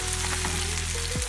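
Chopped onions sizzle in hot oil in a pan, a brief, close crackling fry with a faint background hum and a small clatter near the end.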